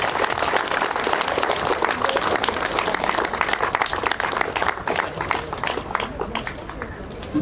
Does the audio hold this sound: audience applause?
yes